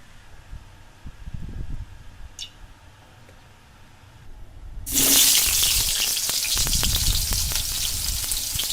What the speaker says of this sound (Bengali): কড়াইটাকে বসিয়ে এবারে আমরা তেল গরম করে নিব আর প্রথমেই আলুটাকে ভেজে নিব